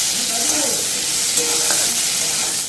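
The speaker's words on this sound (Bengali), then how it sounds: "লাউটা খুব ভালো মতো লাল লাল করে ভেজে নিচ্ছি।" Bottle gourd frying in hot oil for a Bengali dal sukto, a dense, loud, continuous sizzle with light stirring scrapes throughout, close up and with no talking.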